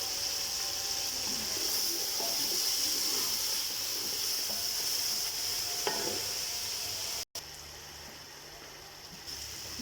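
Chopped tomatoes with cumin seeds frying in a pan, giving a steady, close sizzling hiss that runs unbroken throughout with no talking.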